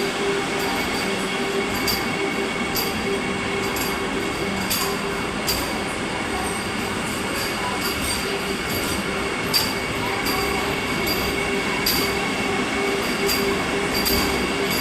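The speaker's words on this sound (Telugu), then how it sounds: "డోర్ క్లోజ్ అయిపోయింది వందే భారత్ ఎక్స్ప్రెస్ది. ట్రైన్ మూవ్ అయింది" A Vande Bharat Express heading from Secunderabad to Visakhapatnam pulls away, heard from inside as a constant rumbling roar with faint ticking clicks and a high steady whine that carries through the whole clip.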